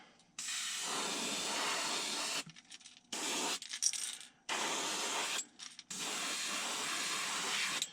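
Four bursts of aerosol spray from a can laying a light clear coat onto a painted fishing lure, close and steady hissing with short pauses between passes.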